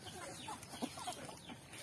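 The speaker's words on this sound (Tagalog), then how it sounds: "itong mga manok natin kapag malalaki na, napakalakas pong kumain ito" Large, full-grown chickens eating BMEG Integra feed, giving a few soft, quiet clucks over a faint background.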